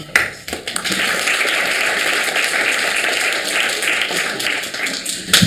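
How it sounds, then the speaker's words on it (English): Audience applause for a panelist at an ArcelorMittal panel discussion, a steady crowd clapping that holds for about five seconds before stopping abruptly. "So a round of applause to Brian."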